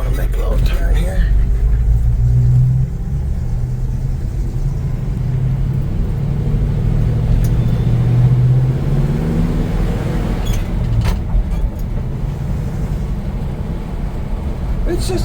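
A 1966 Chevy C10 pickup drives down a road and makes a turn, its engine giving a steady low rumble close by that shifts slightly as it slows and turns, with brief faint rattles.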